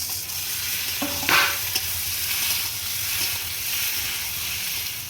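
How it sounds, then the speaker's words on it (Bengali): Potatoes go into a pan of frying ground coriander, cumin and pepper spice paste for a fish curry, giving a steady sizzle with a brief clatter and stirring as they land, with no talking. "মশলা ভাজা হয়ে গেছে, এবার আলুটা দিয়ে দেব।"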